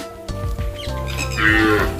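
Cattle at a farm give a loud, close moo, a drawn-out low bellow rising in pitch toward the end, with no talk.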